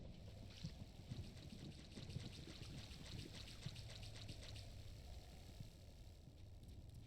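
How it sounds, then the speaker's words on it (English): A waterfall in Final Fantasy XI (Horizon XI) gives a steady, faint rushing and splashing of falling water with no voices. "Does it go behind the waterfall?"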